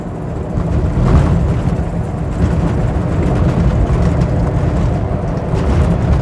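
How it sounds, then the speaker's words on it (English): A 1955 Lincoln Capri driving over a rough road in Scotland, with a loud, continuous low rumble of road and suspension noise, steady throughout with small thumps and rattles. "Oh, this is a terrible road. You can hear how hard the suspension's working"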